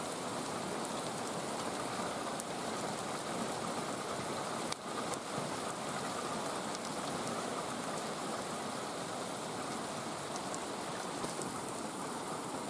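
Steady, dense rain falls continuously, hissing evenly on surfaces nearby without letting up.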